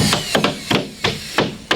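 A hammer nails drywall panels into place on a wall, six quick solid strikes in an uneven rhythm, loud and close, no speech.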